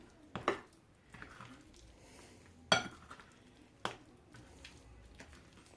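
A food mixture being stirred in a pan with a utensil, giving a few distinct clinks and scrapes against the pan over a quiet, faint background hiss.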